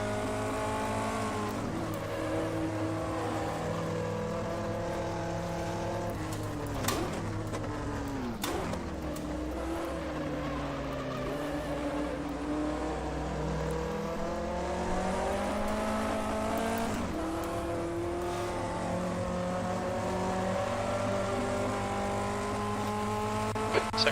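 A 1958 Formula 1 car in Automobilista at historic Silverstone, its engine droning and revving steadily through gear changes, with pitch rising and falling across repeated accelerations and a couple of brief shifts, heard alone and fairly close.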